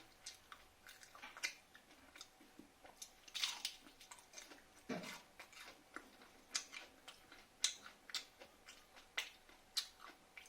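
Crisp crunchy chewing of bok phool bora, fried flower fritters, with repeated close bites and mastication in a quiet room, no talk.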